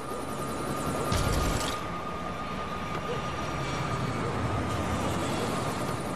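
Helicopter in the video game LEGO City Undercover, a steady continuous rotor drone running throughout with a brief louder burst near the start, no talk over it.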